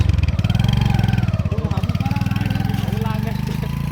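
A motorcycle engine idles close by with a rapid, even throbbing pulse throughout, while people talk over it.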